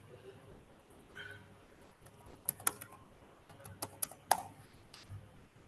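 Light keystrokes on a computer keyboard while entering a brand name into an online header tags checker, a scatter of soft clicks that grows into a few sharper taps near the end, fairly quiet against room noise.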